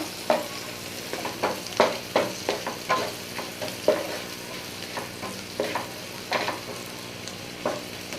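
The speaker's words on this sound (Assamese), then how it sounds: "পিঁয়াজখিনি ৰংচোৱা হ'লেকৈ মই এনেকৈ ভাজিম" Onions frying with turmeric in a pan for a katla fish curry, with repeated scraping stirs of a spatula over a low, steady sizzle; no voices.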